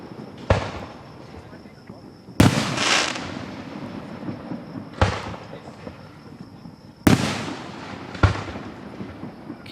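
Fourth of July grand finale fireworks in Gettysburg, sharp loud booms going off every couple of seconds, each followed by a crackling, rumbling decay, with people talking faintly in the background.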